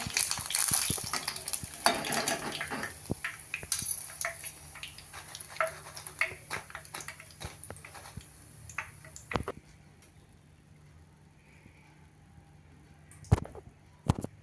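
Green pea vadas deep-fry in oil, with a busy sizzle and scattered clicks and scrapes of a slotted spoon that fade after about nine seconds to a faint quiet hiss, followed by a couple of sharp knocks.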